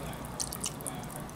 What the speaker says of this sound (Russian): Наливаем 700 миллилитров молока.